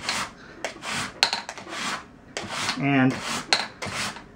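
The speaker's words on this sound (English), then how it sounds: "as I'm filing away here, you can see the tufts of felt layer that are coming off of the hammer" Rasping file work on the felt hammers of a Steinway L piano action, rough broadband strokes in uneven bursts, close and fairly loud, with a brief tonal squeak midway and a faint word spoken.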